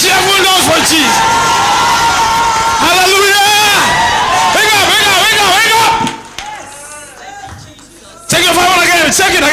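A church congregation roars and whoops in loud, continuous cheering and shouting praise to Jesus, voices overlapping densely, then dips briefly before surging back.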